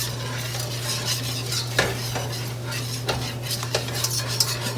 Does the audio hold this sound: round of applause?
no